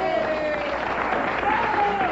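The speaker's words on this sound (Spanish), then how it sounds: "Un aplauso para Lorena." Studio audience giving a short burst of applause for a guest, steady dense clapping at moderate level with faint tonal voices mixed underneath.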